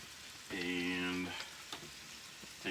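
Chopped potatoes fry on aluminum foil sprayed with cooking spray in a pan, with a soft continuous sizzle and a few crackles. A brief tonal, voice-like hum sounds near the start.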